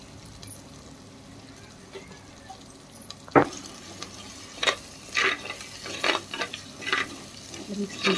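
Chili powder masala is mixed in a clay pot for a fish curry, with a low frying hiss and a sharp knock, then repeated close scraping and stirring strokes in an uneven rhythm.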